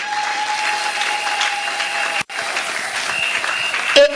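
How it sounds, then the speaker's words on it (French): A church congregation claps and cheers in praise of the Lord. The applause is loud and steady, with a brief break partway through before it picks up again. "Est-ce qu'on peut acclamer le Seigneur?"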